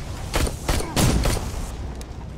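Spider Scout robot firing in the game Terminator Resistance: a few sharp bursts of shots in quick succession, loud and close, with no talk over them.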